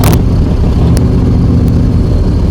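A Ford 460 big block V8 in a Cobra replica runs loud and close, a steady rumbling engine note with a couple of brief sharper bursts near the start, no voices over it.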